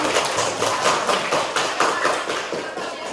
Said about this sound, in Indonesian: Terima kasih, tepuk tangan buat teman.